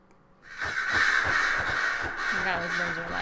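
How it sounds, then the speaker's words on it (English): Loud birds caw in Dragon Age: Inquisition, with harsh, repeated crow-like calls rising suddenly and holding strong for about three seconds. "I forgot those birds are loud."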